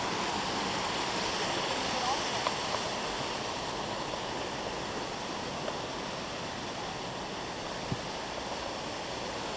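Water rushes in a steady, full hiss of a flowing stream by an old mill wheel in Cantoira, Italy, constant and close, with a few faint knocks.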